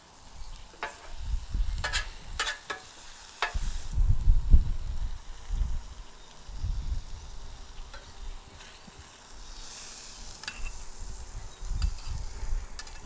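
Onions and mushrooms frying on a hot flat griddle while a smash burger is being made, a steady close sizzle broken by sharp spatula clinks and scrapes, no talking.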